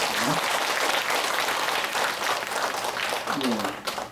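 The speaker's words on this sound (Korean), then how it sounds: "다시 한번 감사의 박수를 보내드립니다" Applause of thanks from a temple congregation at a Buddhist dharma service in Busan, a steady dense wash of clapping filling the room, with a voice speaking briefly over it.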